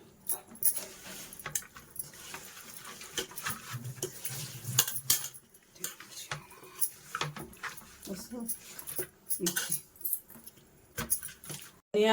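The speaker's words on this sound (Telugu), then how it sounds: "ఒకసారి బాగా కలపండి." A spoon stirs fish curry in a pot, giving scattered metallic scrapes and clinks against the pan, close and irregular, with a voice talking over it.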